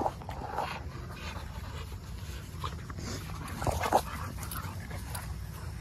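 An American Bully puppy whimpers and pants close by in soft, uneven bursts, with a few higher yips against faint background noise and no talking.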